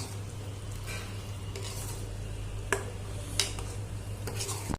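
Masala for a fish curry frying in a pan, giving a low, steady sizzle with a few sharp stirring clicks against the pan, heard close and without talk.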